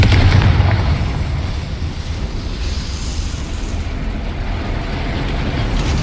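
Confringo spell blast in Hogwarts Legacy: a loud, booming rumble at the start that fades into a sustained roaring, windy wash.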